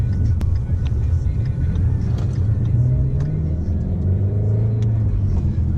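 Ford Shelby GT350 Mustang engine under way with the exhaust valves closed, a steady low rumble that rises gently in pitch through the drive, fairly close and continuous, with road noise beneath it.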